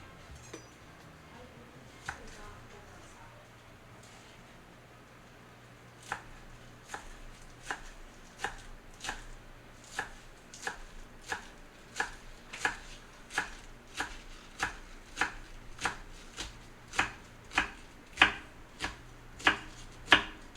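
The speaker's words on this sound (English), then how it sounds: "All right, we need some green onions cut up." Fresh green onions chopped on a board, a knife striking in a steady rhythm of sharp, close chops that start sparse and then quicken into a regular series over a quiet background.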